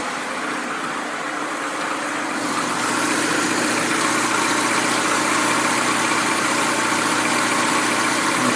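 A Lada Niva engine idles steadily with its newly fitted radiator fan spinning, a continuous close whirring hum that swells slightly louder partway through and then holds.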